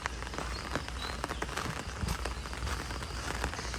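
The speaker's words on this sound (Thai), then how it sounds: "บรรยากาศฝนตกมาก" Heavy rain falling steadily, a dense patter of drops on surfaces close by, with no talking.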